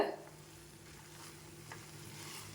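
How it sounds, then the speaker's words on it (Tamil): Mint leaves sautéing in a pan for mint chutney, giving a soft, steady sizzle that stays faint and even throughout, with no talking. "இப்போ புதினா நல்லா வதங்கிட்டு"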